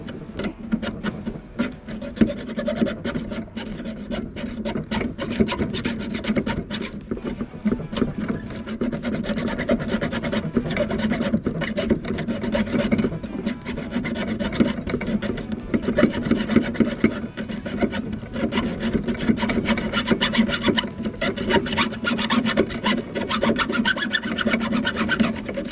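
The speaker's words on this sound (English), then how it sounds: "thread your hacksaw blade through there on one side. Tighten it up" A hacksaw blade saws steadily through the metal rudder cam pin of a Hobie 14 catamaran, producing a loud, continuous rasping with quick back-and-forth strokes and no talk.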